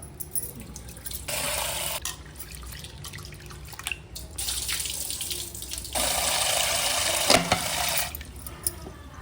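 Moong dal and sago are rinsed together in water in a cooker, with running tap water in several bursts, splashing and dripping, and small grainy clinks and swishes close by, with no talk.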